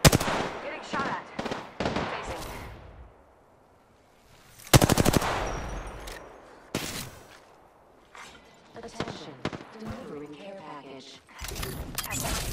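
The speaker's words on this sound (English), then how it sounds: "Getting shot at." Gunfire in the video game Apex Legends comes in loud bursts of rapid automatic shots separated by pauses, with game voices speaking between them.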